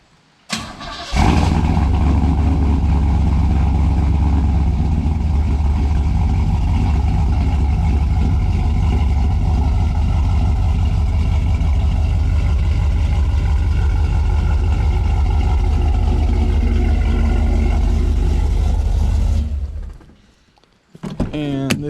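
A truck with a swapped-in 350 V8 feeding an X-pipe into dual Flowmaster Super 10 exhausts cranks and fires up by remote start, then settles into a loud, deep, steady idle for nearly twenty seconds before cutting off.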